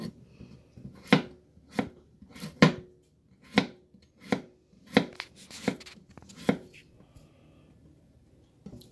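A knife chops a carrot into julienne strips on a cutting board, giving about ten distinct, sharp, close knocks at an uneven, unhurried pace, with quiet room noise between strikes.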